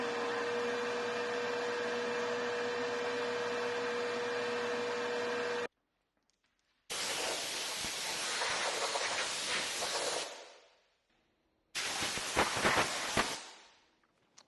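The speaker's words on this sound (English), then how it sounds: "using an abrasive blasting cabinet to remove all the remaining paint and crud and get down to bare metal" Abrasive blasting cabinet stripping paint and crud from drill press parts down to bare metal, a loud steady hiss of air and grit in three long bursts separated by silent pauses, the later blasts rougher and tapering off.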